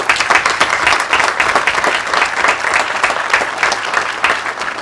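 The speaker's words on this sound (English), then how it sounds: "we should give them a round of applause for what they did here" Steady, dense applause fills the air at a welcome center grand opening ceremony, many hands clapping at once for nearly five seconds at an even loudness, with no break and no speech.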